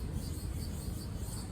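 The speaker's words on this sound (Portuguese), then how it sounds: "os grilos, os pássaros" Crickets chirp outdoors in a dense, steady, pulsing chorus, with faint bird calls mixed in the background.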